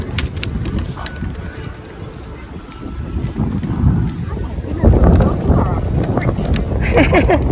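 Steady wind at a park in Australia rumbles and buffets against the microphone throughout, loud and close, with faint outdoor movement in the background.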